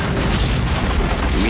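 A film explosion sets off barrels of fuel, heard as a loud, dense, sustained roaring rumble that fills the whole short moment with no separate voices.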